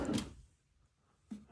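A wooden drawer without soft-close hardware shuts with a single quick thud at the start and a second smaller knock just after a pause, close by in a quiet workshop.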